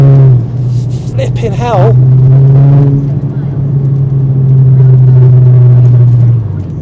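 VW Golf GTI engine pulling hard in second gear from about 20 mph on a wet road, a loud steady drone that holds for several seconds, with a voice exclaiming over it at the start.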